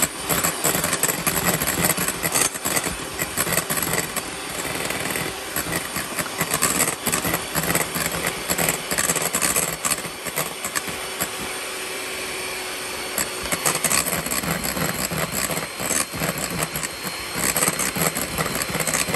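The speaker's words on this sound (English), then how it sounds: "We're going to gradually add in the sugar and whisk it a little at a time." An electric mixer whisks egg whites as sugar is gradually added for meringue, a loud continuous motor whine with uneven rhythmic surges as the beaters work, close and unaccompanied by talk.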